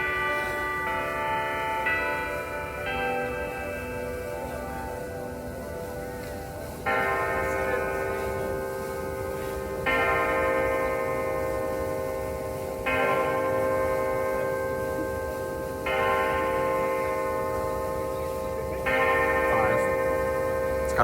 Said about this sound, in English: The number of bells is gonna tell us